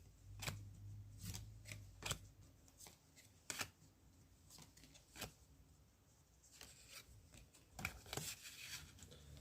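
Tarot-style cards are shuffled for a card reading, giving repeated soft riffles and slaps in irregular bursts, close and quiet, with no talking.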